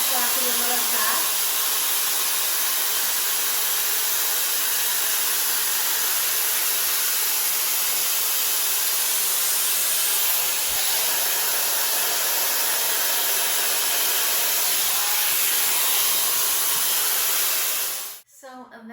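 A Shark FlexFusion air straightener blows steadily while drying curly hair, a loud continuous airy hiss and whoosh that holds nearly unchanged before cutting off abruptly near the end.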